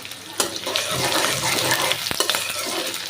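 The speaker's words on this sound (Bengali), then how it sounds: "এখানে আমি রসুনটা দিয়ে পেঁয়াজটা দিয়ে দিছি" Garlic and onion frying in hot oil, a steady broadband sizzle with stirring scrapes and clatter throughout, close and fairly loud, no speech over it.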